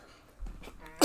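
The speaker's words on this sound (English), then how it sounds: "I thought that was not going to be a sneeze." A single short sneeze from someone who has been eating Takis chips bursts out at the end after a brief breathy buildup, close and fairly quiet.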